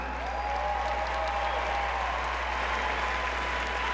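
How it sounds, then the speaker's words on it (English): Spectators at a 2018 West Regional women's event applaud the individual results, a sustained, even round of clapping from a crowd over a steady low hum. "Let's give them a big round of applause one more time."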